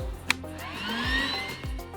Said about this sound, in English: I'm going to vacuum every part that I can.